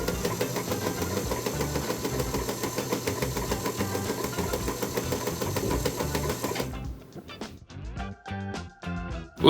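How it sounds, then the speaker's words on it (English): A Featherweight sewing machine stitches quilt fabric strips together with a steady, fast mechanical whir that runs continuously, then slows into separate clunking stitches near the end. "we're going to take these two pieces and we're going to sew them together just like that"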